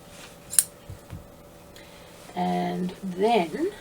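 Fabric scissors trim the seam allowance and lining of a zipper pouch in a few close, crisp snips and rustles, with a person speaking over part of the cutting.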